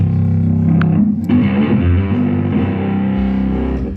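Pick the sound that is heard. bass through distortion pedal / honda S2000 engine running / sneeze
bass through distortion pedal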